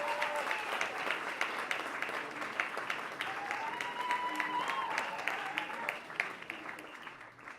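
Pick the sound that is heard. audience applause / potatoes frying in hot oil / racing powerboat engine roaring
audience applause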